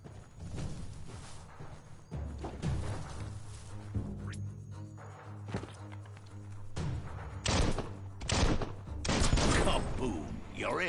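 Sharp bursts of gunfire and heavy blasts ring out in a Biomutant video game fight as an explosive object is shot, loud thumps clustering near the end over a low rumbling score.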